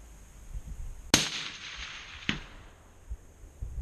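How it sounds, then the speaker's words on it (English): A single sharp, loud crack from a Ruger Precision rifle in 6.5 Creedmoor fired outdoors, followed by a fading rumble and a fainter echo or impact report about a second later. "Okay. Fire and hold."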